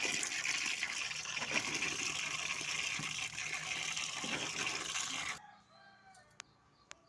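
Water gushes steadily and loudly while an item is washed, with detergent in use, then cuts off abruptly, leaving near quiet with a few faint clinks and one sharp tap.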